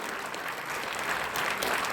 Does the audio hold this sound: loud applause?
yes